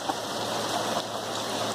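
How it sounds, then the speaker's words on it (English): Steady rain falls on a weatherproof cover over an outdoor backyard TV, a dense, even patter close by with no pauses and no voices. "no issues with rain coming down on it"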